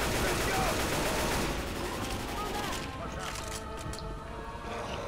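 Rapid automatic gunfire rattles away at the Tank in the video game Left 4 Dead 2, a dense fusillade that thins after a few seconds, with players talking over it.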